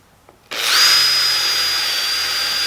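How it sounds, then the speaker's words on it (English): A power drill bores a hole through a piece of wooden jewelry stock, starting abruptly and whining steadily and loudly for a couple of seconds without pause. "now that you've drilled a hole in your piece of wood"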